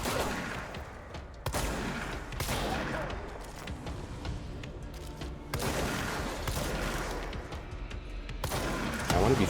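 A weapon fires slug rounds in the game Control, several heavy booming shots spaced a couple of seconds apart, each followed by ringing decay and game ambience, with a voice talking between them.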